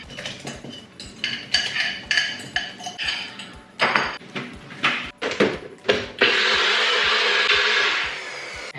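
A blender whirs steadily through a batch of tofu after a run of clinks and knocks from dishes and utensils, the motor loud and close for the last few seconds with no talking.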